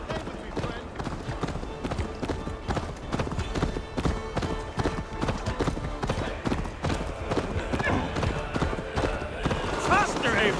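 A horse gallops in Assassin's Creed Valhalla, its rapid rhythmic hoofbeats steady and moderately loud under a busy game soundscape with voices talking over it.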